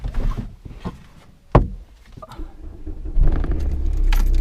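A cheap old £300 car is started: keys jingle, a sharp click or door thud, then the engine cranks and settles into a steady close idle, with no talk.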